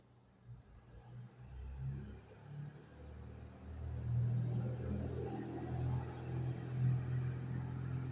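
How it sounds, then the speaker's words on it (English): Big dump truck driving through a residential neighborhood in Mexico, a low engine rumble that swells as it draws nearer and stays fairly distant and muffled. "Big dump truck going through the neighborhood"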